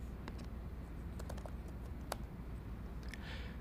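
Keystrokes on a computer keyboard entering a name into a spreadsheet cell, a short burst of quiet, close clicks over a steady low background hum, with no speech.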